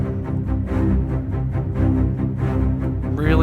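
Orchestral strings from the Symphobia 4: Pandora library play steady, rhythmic pulses and repeating ostinato figures, a dense low-pitched pattern that throbs evenly throughout at moderate loudness with no voices.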